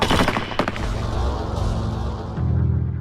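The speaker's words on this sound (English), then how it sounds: "The deafening explosion of the 8 rifles was the last thing Ahmed heard." A firing squad's rifle volley cracks out as a dense burst of near-simultaneous shots, loud and close, followed by rumbling echo and a low lingering boom.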